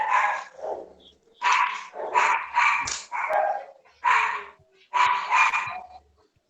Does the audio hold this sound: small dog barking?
yes